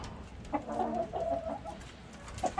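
A few chickens cluck softly nearby on a frozen off-grid Alaskan island in deep cold, a brief run of low murmuring clucks followed by a couple of sharper calls.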